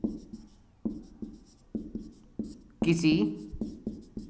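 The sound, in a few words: writing on a board while teaching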